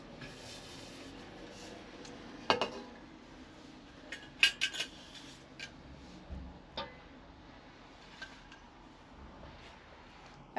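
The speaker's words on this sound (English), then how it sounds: "I cover the pots with a perforated plate like this so they can breathe." Light clinks and taps of a perforated plate being set over yogurt pots in a home kitchen, a few sharp scattered knocks against a faint quiet background.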